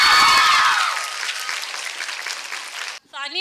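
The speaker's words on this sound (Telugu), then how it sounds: "తన్మయ్యకి ఒకసారి గట్టిగా క్లాప్స్ కొట్రా." Audience applause at a women's college song launch event fills the space, loud at first then settling into sustained clapping, with a voice heard briefly at the end.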